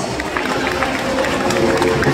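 At a safari park bird show in Cebu, an audience applauds the flying macaws, a steady crowd patter of clapping with murmuring voices underneath.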